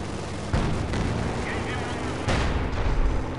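Tank cannon fire in the Company of Heroes 2 video game, two heavy booming shots about two seconds apart amid dense, noisy battle sounds, with voices talking over the action.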